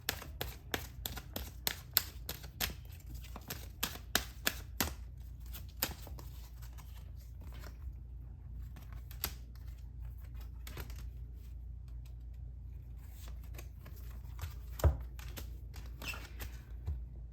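A rapid flurry of close card-shuffling clicks at the start, thinning to sparse taps and a quiet pause, then a brief flutter of cards again near the end.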